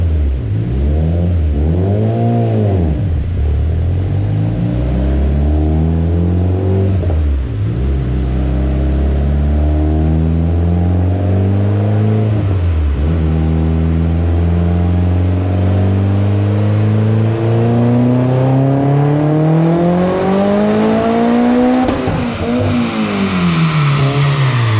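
Turbocharged Mitsubishi Evo X on a dyno with Garrett GTX3576 Gen 2 turbo, GSC S2 cams, stock block and E85 flex fuel, held at 27 psi boost, revving loud and continuous with a rising pitch that dips and climbs again through a long pull.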